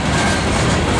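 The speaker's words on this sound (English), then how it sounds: "fairly long train today" A long CSX manifest freight train led by ET44 and AC44 locomotives passes on the Monroe Subdivision SF Line, making a steady, loud, close rolling roar with no voices.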